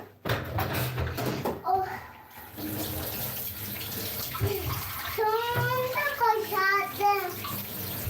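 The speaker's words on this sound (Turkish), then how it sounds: "Hadi ver o patatesleri yıkayalım" Water runs steadily, as from a tap, while potatoes are washed in a home kitchen, with children's and adults' voices talking over it throughout.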